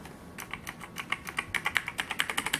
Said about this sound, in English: Despite all the flaws this keyboard has, the typing feel seems pretty nice.